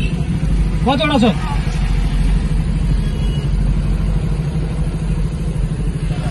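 Cars labouring up a steep, badly broken road in the North Bengal hills, a steady low engine rumble and rattle running throughout, close and loud, with a brief voice in the first seconds.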